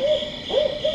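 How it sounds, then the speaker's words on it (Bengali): A small owl hoots at night, three short, close, clear hoots in quick succession with nothing else around them. "ছোট পেঁচার খুব শব্দ"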